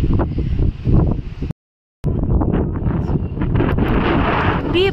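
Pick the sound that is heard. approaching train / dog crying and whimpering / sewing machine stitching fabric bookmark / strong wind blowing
strong wind blowing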